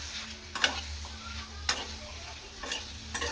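A spoon stirs spinach paneer gravy seasoned with a pinch of turmeric in a pan, giving a few distinct scraping strokes spaced about a second apart over a soft, continuous low sizzle, close and fairly quiet.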